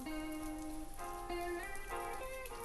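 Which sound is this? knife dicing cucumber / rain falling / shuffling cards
rain falling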